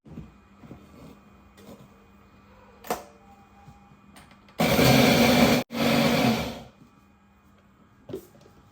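Mixer grinder coarsely grinding rice for mango phirni, a loud steady whir in two bursts of about a second each, separated by a brief pause, with quiet kitchen clatter before and after.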